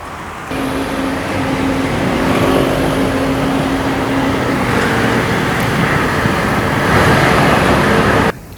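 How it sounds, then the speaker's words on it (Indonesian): Steady roar of heavy holiday traffic on a toll road, large trucks crawling slowly in packed lanes, a continuous broadband rumble with engine drone that holds constant throughout, no voices. "truk besar memasuki jalur tol yang berjalan pelan membuat lajur bertambah padat"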